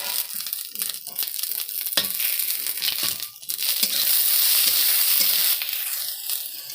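Raw peas and green chillies fry with beans in a pan for fried rice, a close, crackling sizzle broken by scraping, crunchy stirring strokes and brief rustles, with no one talking.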